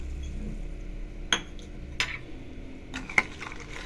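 A spoon stirs jaggery dissolving in simmering water in a pan, giving a few sharp metallic clinks and scrapes spaced out over a quiet, faintly bubbling background.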